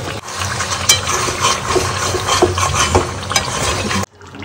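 Chicken do pyaza being stirred in a pan, a steady close scrape and clatter of a spoon against metal over a low sizzle, continuous for about four seconds before cutting off.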